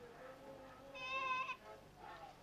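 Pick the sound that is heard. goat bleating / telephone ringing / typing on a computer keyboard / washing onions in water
goat bleating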